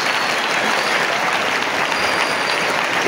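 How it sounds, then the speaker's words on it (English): Congregation clapping for the Lord during a church ministry session, loud sustained applause from a large crowd, dense and steady from start to finish with no speech audible over it. "Clap for the Lord."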